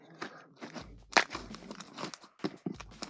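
Chunky slime mixed with instant snow is squished by hand, giving repeated close crunching and crinkling bursts in uneven rhythm with short pauses between squeezes.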